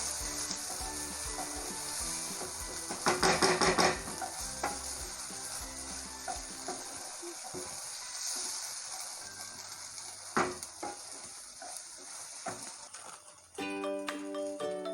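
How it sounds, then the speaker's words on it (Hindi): Green peas tipped into a hot pan with garlic paste and stirred, giving steady close sizzling broken by bursts of scraping and clinking as the spoon moves, a quieter stretch midway, then a louder tonal clatter near the end. "मटर ऐड करेंगे, चलाएंगे।"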